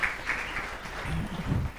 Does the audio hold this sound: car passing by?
no